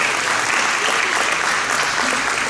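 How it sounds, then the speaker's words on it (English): A high school awards-ceremony audience claps steadily, a dense even wash of applause filling the whole moment without pause. "give her a hand of applause"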